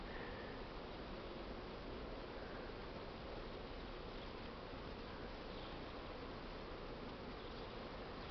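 Dense, continuous buzzing of many honey bees around a hive outdoors, an even steady drone from close by with no pauses, faint overall and no talking.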